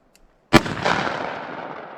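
A single sharp gunshot of Black Hills Honey Badger ammunition, fired at close range over a chronograph, goes off loud and near and then fades in a long echo tail.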